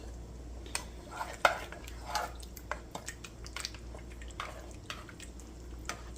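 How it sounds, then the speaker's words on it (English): Spoon stirring spices and white sugar into a pot for a cabbage roll casserole, soft scraping and clinking taps against the pot in irregular strokes, quiet and close. "So now we're going to dump that in our pot right here and give it a stir."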